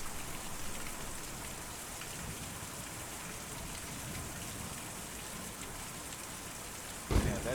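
Steady, dense video-game rainfall hisses continuously at an even level, ending with a brief low thump near the close.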